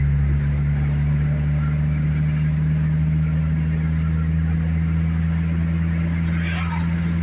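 A K24-swapped Honda CRX on the move: a loud, steady low engine drone with constant road rumble, running unbroken throughout.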